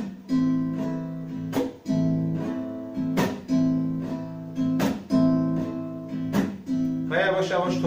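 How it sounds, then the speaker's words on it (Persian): Acoustic guitar strummed slowly in a 6/8 pop rhythm, with evenly spaced, ringing chord strokes and sharp accented hits about every second, played alone and close. "من یک بار دیگه این ریتم رو به صورت آروم براتون اجرا میکنم تا بیشتر یاد بگیرینش."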